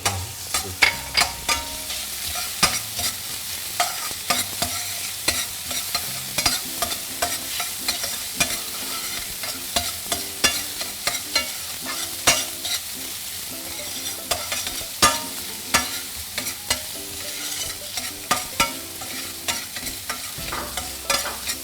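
Garlic sizzles in a hot pan while a spoon stirs it for a bean stew, giving a steady frying hiss broken by frequent scraping stirring strokes, close and continuous, with no talking.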